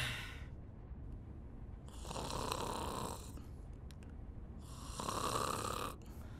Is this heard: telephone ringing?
no